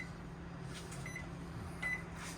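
Microwave in a used 2020 Forest River Wildwood X-Lite QBXL travel trailer giving short, faint electronic beeps as its clock button is pressed, over a steady low hum.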